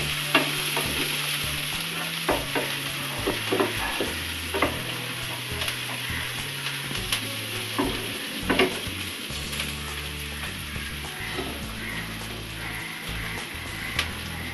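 Onions are stirred and fried in a pan for a Bengali aar fish jhal. The oil sizzles steadily while a utensil scrapes and clinks against the pan in repeated, irregular strokes, with no talking.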